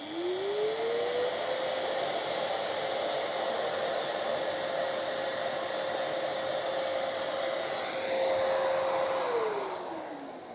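A workshop vacuum cleaner attached to a Recontech 1312 CNC milling machine whirs up to a steady, high-pitched whine, holds it for several seconds, then briefly shifts and begins winding down near the end. No one speaks.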